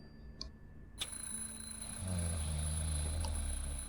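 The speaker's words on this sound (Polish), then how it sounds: "wyłącz ten budzik, bo mnie stresuje" An alarm clock in a game rings with a steady, faint electronic tone that starts suddenly and continues alone.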